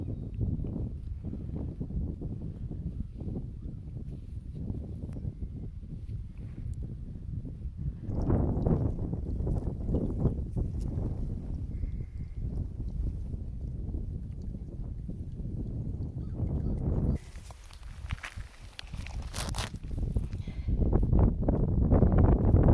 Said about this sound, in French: On a un bon petit vent aujourd'hui.